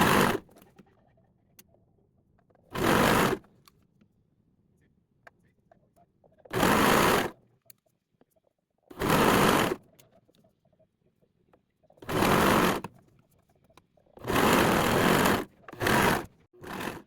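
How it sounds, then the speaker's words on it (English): A sewing machine stitches the cuffs of a homemade hoodie in short bursts of whirring, each one to two seconds long, separated by quiet pauses. "then I'll sew it and show you guys"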